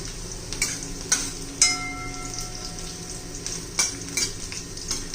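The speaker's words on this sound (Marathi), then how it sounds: "छान असा लसणचा कलर बदलला पाहिजे म्हणजे त्याचा चांगला अर्क उतरतो तेलामध्ये" Crushed garlic fries in hot oil for a chilli chutney, a continuous crackling sizzle punctuated by several sharp spoon taps and scrapes against the pan, with no one speaking.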